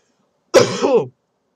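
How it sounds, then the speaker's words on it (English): A single short cough that is half a sneeze bursts out once, close and loud, a harsh throaty blast lasting about half a second amid silence. "I was like halfway between a cough and a sneeze."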